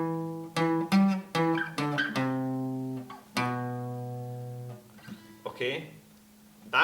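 A riff on guitar, a sequence of sustained single notes with the long held tones ringing out, fairly quiet and close, trailing into softer noises at the end.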